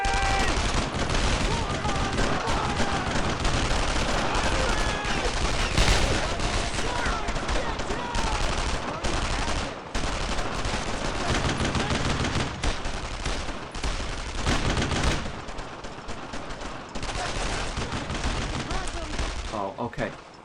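Dense, continuous gunfire and explosions from a World War II battle in a Brothers in Arms: Road to Hill 30 game, fighting a Waffen SS counteroffensive at Hill 30, with volleys and bursts overlapping loudly without a break throughout.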